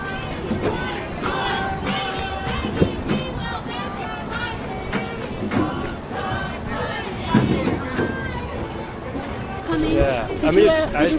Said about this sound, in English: Let's watch the place they are doing the protest, and let's listen to what really happened.